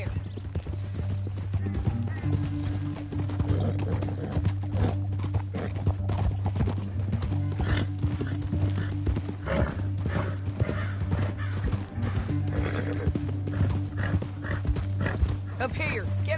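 Horse hooves clip-clopping steadily in Red Dead Redemption 2, with occasional whinnies, under a constant low hum and a game character's voice talking throughout.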